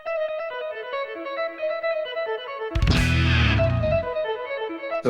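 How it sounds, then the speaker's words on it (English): An electric guitar runs through a pedal effect that adds synth-like notes between the played notes, giving a quick, sequenced tone pattern, then a louder swelling burst of chordal sound before the pattern resumes; fairly quiet, with no talking. "it puts notes in between the notes you're playing"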